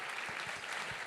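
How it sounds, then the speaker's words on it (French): Audience at an alumni award ceremony claps for a winner, a short burst of dense applause lasting about a second, moderately distant. "Et on l'applaudit."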